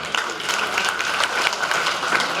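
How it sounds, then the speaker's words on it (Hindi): Loud, dense applause from an audience gathered at a community event, clapping steadily throughout to welcome guests, with a faint tonal hum running beneath the crowd. "जोरदार ताली बजा के स्वागत करें आप सभी।"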